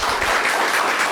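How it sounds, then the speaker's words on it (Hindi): A crowd applauds steadily for about a second at a cake-cutting celebration honouring a Himachal NEET topper, a dense, even patter of many hands. "जोरदार तालियां हो जाए।"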